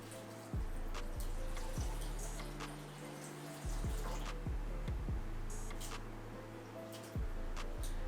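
Sago pearls (sabudana) washed in water, with soft, fairly faint sloshing and swishing strokes that repeat every second or so over a low background hum, and no speech.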